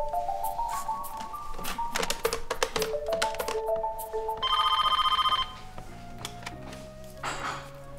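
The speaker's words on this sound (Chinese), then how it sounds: "你给冷护士长打个电话问问。" A telephone rings with a repeated electronic bell tone, loud and close, heard alone in a quiet room amid a few taps and clicks, with no talking.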